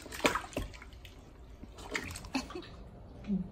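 A baby splashing water in a bath, with irregular close splashes and drips, a few louder slaps of water, and soft voices in the background.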